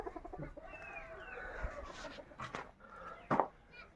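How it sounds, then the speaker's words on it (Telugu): Roosters crow and cluck at a moderate distance in a small hill-ringed tribal village, with a few other bird calls and rustling around them. "ఊళ్ళో పుంజులు బాగానే ఉన్నాయి."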